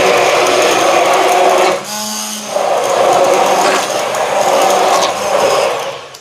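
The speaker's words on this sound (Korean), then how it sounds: "이렇게 입자가 곱게 갈아줍니다" A blender whirs loudly as it grinds sweet pumpkin finely for sikhye, a steady close motor roar that dips briefly, then resumes at full strength until it winds down.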